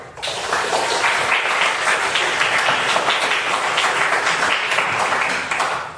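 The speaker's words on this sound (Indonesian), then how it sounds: "Oke, tepuk tangan." Pupils in a classroom break into loud, continuous clapping that swells in at once, holds at a full even level for several seconds, then tapers slightly at the end.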